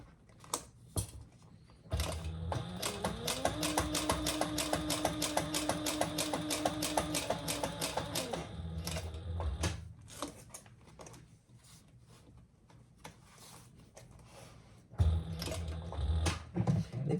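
A sewing machine stitching slowly through thick fabric while a Lemonza Clutch bag is made, running steadily for about six seconds with rapid even needle strokes, then a quieter handling stretch and a brief burst near the end.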